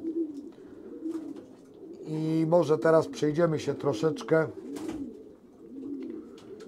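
Breeding pigeons coo softly in a low, steady murmur, largely beneath someone talking in Polish close by.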